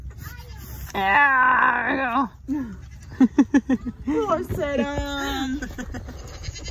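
A goat bleats loudly and wavers nearby on a farm, then several short stuttering bleats follow, mixed with people talking and shouting.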